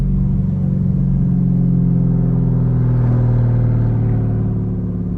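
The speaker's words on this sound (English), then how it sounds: "It's an amazing sounding exhaust on its own, I bet, but with headers, wow, this is nuts." A C8 Corvette with a Corsa track edition exhaust and headers decelerates, giving a loud, steady, deep burbling rumble that holds throughout with a slight swell near the middle.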